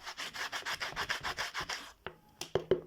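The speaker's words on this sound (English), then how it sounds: "I'm going to also sandpaper this side before I go ahead and do that." Sandpaper rubbed briskly against the side of a handmade sandal, about a dozen rhythmic back-and-forth strokes close up, followed by a few sharp taps and scrapes after a brief pause, no voices.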